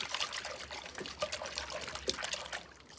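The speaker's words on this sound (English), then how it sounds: "Some soap nut solution in the water." Soap nut solution poured into a container of water for scrubbing cement splatters off windows, a continuous close trickling and splashing stream running steadily throughout.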